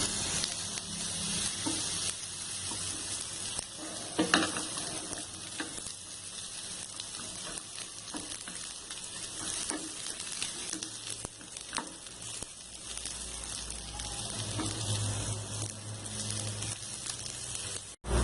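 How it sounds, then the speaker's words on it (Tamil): Radish sizzles and fries in coconut oil in a pan, a steady close hiss that runs throughout with occasional stirring scrapes and no talking. "அதுக்கப்புறம் தான் எண்ணெய் ஊற்றி வதக்கணும்"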